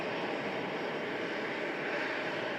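Airliner departing Manchester Airport, a TUI Boeing 787 Dreamliner, its engines a steady broadband roar heard from a distance, even and unbroken throughout.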